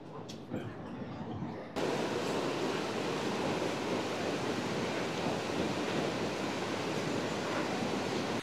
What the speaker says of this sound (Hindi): चूँकि दरिया बह रहा है